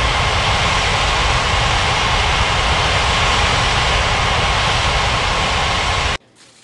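Airliner landing in the mobile game Unmatched Air Traffic Control at Bali's Ngurah Rai airport: a loud, steady jet engine roar holding for about six seconds, then cutting off abruptly to quiet.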